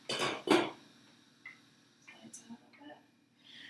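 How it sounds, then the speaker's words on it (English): A lid is put on a cooking pot in a home kitchen, giving a couple of clinking metal knocks at the start, then a few faint small clicks and rattles. "While it's cooking, let's put this lid on."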